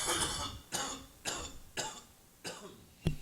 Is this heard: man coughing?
yes